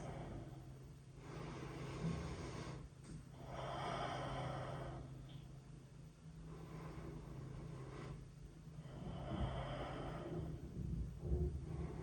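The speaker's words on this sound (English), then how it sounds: "Focus on controlling your breath. Slow inhales, slow exhales." Slow, controlled breathing during a standing yoga session: several long, soft inhales and exhales swell and fade in a steady rhythm, close and breathy over a low, constant background hum.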